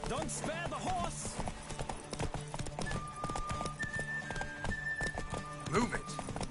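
Hooves clatter in a continuous rapid rhythm as a horse gallops in The Witcher 3: Wild Hunt, close and prominent over a musical bed, with a neigh breaking through near the end.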